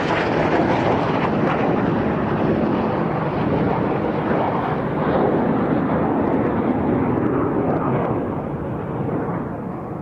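Display aircraft at an air show drone in a broad, steady, loud roar that holds for the whole stretch, easing slightly toward the end, with no voices.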